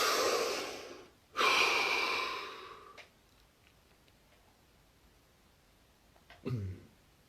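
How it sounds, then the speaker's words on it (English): A person takes a deep breath: a long, loud airy inhale, a brief pause, then a second strong rush of air that fades out, followed by quiet and a short soft breath near the end. "Deep breath."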